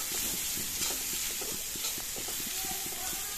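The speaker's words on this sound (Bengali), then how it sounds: "হলুদের গুঁড়া, লবণ, মরিচের গুঁড়া সব কিছু দিয়ে একটু ভালো করে নাড়াচাড়া করে নিচ্ছি।" Onions cooking in a pan with turmeric, salt and chili powder, stirred with steady scraping strokes over a continuous soft sizzle and hiss, close and fairly quiet, no talking.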